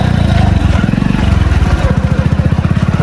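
A motorcycle engine idles and runs nearby, making a steady, loud, low chugging putter with fast regular pulses.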